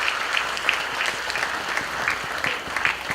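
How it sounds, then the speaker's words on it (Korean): Steady applause from an audience at a university graduation ceremony, dense clapping from many hands that holds at an even level throughout, in a large hall and without voices over it. "동창회장님께 여러분 뜨거운 박수 한번 보내주시면 고맙겠습니다."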